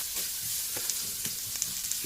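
Onion and garlic fry in hot oil for a chicken curry, giving a soft, steady sizzle with a few faint crackles and light stirring sounds, no talking.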